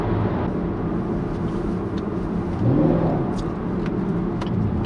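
A Chevrolet Camaro SS engine rumbles steadily, swelling into a brief deeper rev midway before settling back to a constant low drone, with no one talking.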